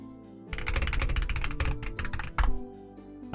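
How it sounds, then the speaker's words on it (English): Rapid typing on a computer keyboard, close and distinct, a dense burst of key clicks with a few heavier keystrokes near the end, no talking. "I'll just type that in."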